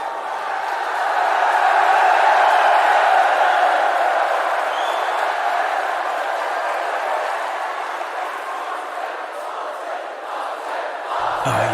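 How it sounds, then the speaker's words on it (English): A large crowd cheers at a sporting event, a dense, sustained roar that swells over the first few seconds and then holds steady, with no individual voices standing out. "the cheering crowd getting excited over a sporting event"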